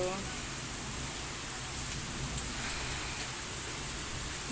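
Steady rain pours down over Dhaka as a continuous dense hiss, loud and close, with no pauses across the whole stretch.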